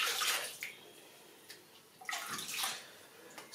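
Water poured and splashed during a scalp wash with soda, in short bursts of pouring and sloshing separated by quiet pauses, close up with no talk.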